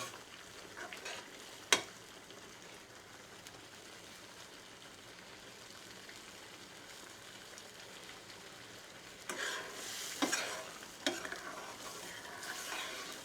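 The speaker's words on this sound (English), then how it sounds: "all we're doing is just thickening the curry up now while it's cooking" A pot of chicken makhani curry simmering and thickening gives a faint, steady low bubbling and sizzle, with one sharp clink early on and a few louder stirring scrapes near the end.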